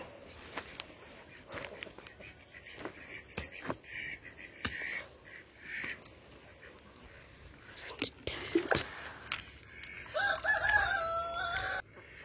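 Chickens and a rooster around a farmyard, with scattered clucks and brief crowing calls at a moderate distance while a person talks quietly throughout.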